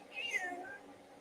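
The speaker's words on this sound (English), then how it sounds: "I'm arguing with a cat right now." A single drawn-out cat meow at close range, rising then falling over about a second, heard alone and fairly clear.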